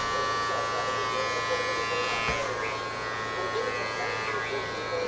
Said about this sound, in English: we're going to open up our clipper level all the way like this